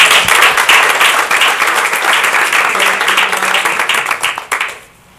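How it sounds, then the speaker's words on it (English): Warm applause from parents and guests at a county board of education meeting, a dense steady burst of clapping that fills the room for about five seconds, then fades abruptly to near silence. "So let's give applause to the parents."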